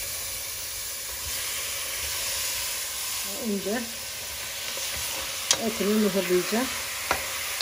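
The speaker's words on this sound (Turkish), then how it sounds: "Etleri soteleyeceğim." Chicken meat sizzles steadily as it sautés in a hot pot for soup, with occasional stirring scrapes and a few clinks, while a person speaks briefly over it.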